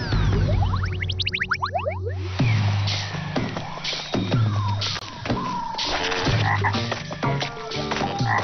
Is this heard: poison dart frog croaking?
yes